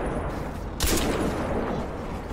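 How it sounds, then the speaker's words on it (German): In Crysis 2, a single loud, sharp sniper rifle shot cracks out, its echo trailing away over steady background noise. "Der zweite Schuss hat nicht getroffen."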